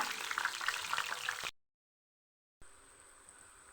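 A batch of food frying in hot oil, a close, dense crackling sizzle that cuts out abruptly, then resumes as a quieter, steadier hiss with a faint high tone.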